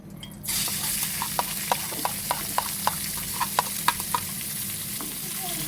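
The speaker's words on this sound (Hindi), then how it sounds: "सबसे पहले हम एक कढ़ाई में 2 टेबल स्पून के जितना ऑयल डालेंगे और फिर हम उसमें 350 ग्राम जितना चिकन का कीमा डालेंगे" Chicken mince frying in oil in a kadhai, a steady close sizzle with a string of sharp stirring scrapes and spoon taps spaced through the clip.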